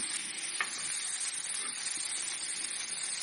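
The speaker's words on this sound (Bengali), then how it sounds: "এটার মধ্যে চ্যাপা চুটকিগুলো দিয়ে দিচ্ছি তারপর একসাথে সব কিছু খুব সুন্দরভাবে নেড়ে চেড়ে আর একটু ভেজে নেব" Dried chapa fish fries in mustard oil alongside fried onion, garlic and chili, giving a quiet, steady sizzle with a few faint stirring scrapes.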